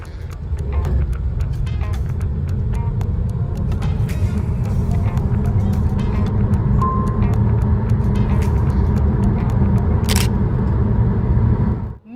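An MG Windsor electric car with a 38 kWh battery and 136 PS, accelerating hard from 0 to 100 km/h: a steady low rumble of tyres and road noise building inside the cabin, with faint clicks and a brief whine, ending abruptly.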